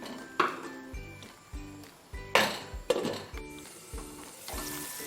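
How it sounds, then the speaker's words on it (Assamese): A lid goes onto a cooking pot of brinjal masala simmering with water: several close, sharp metallic clinks and knocks, spaced out over a few seconds against a quiet kitchen background. "এতিয়া এইখিনি ঢাকন মাৰি অকণমান সময় উতলিবলৈ দিম"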